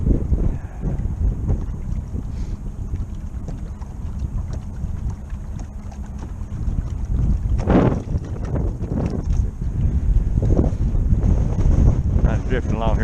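Strong 20 mph wind buffets a fishing boat drifting on open water, a constant roaring rush over the microphone with water sloshing against the hull and occasional gusts swelling louder, and someone speaking under the noise.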